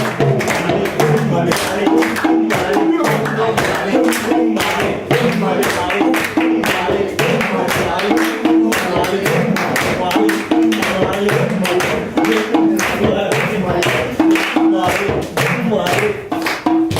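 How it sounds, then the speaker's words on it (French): Audience applause at a French storytelling performance, a steady dense patter of clapping sustained throughout, loud and close, with some rhythmic thumping and voices mixed in. "et les gens applaudissent"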